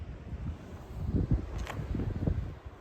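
Wind buffets a microphone high on an Appalachian mountain, rumbling low and uneven in gusts that swell in the middle and ease off at the end, with no voices.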